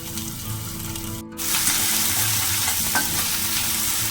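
Asafoetida and ginger paste frying in hot oil with a bay leaf, stirred: loud continuous sizzling close by, a brief gap early on, then steady frying with faint scraping and no talk.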